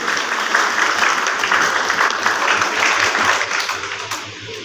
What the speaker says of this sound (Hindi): मैं माइक दे रहा हूं, एक बार जोरदार तालियां